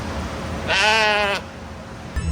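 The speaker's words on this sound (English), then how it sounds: "a few lambs wait patiently for their turn in the spotlight" A lamb at a county fair livestock area gives one clear, wavering bleat lasting under a second over low background murmur, followed by a brief fainter call at the end.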